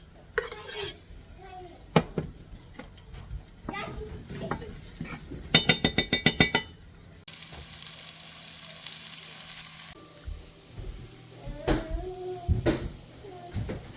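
Okra fries in bacon grease in a pan, a soft sizzle under stirring and utensil scrapes, with a quick rattling burst partway through and a voice speaking briefly.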